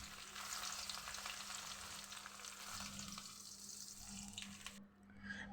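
Chopped onions fry with cumin in mustard oil in a wok, a soft continuous sizzle with faint stirring scrapes, fairly quiet and without talk, ending in a brief quieter moment.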